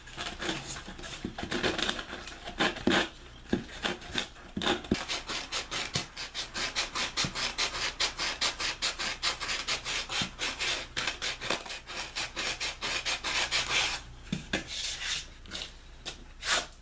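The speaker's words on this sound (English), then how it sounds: "just use the sandpaper to abrade down the lip and smooth it out" Sandpaper rubs rapidly against the cut lip of a dried gourd being made into a canteen, a steady scratchy back-and-forth rasp that continues close and alone, indoors.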